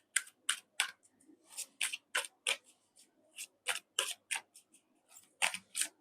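Tarot cards shuffled and drawn in a steady run of soft, close riffling snaps and slides, quiet and without talking.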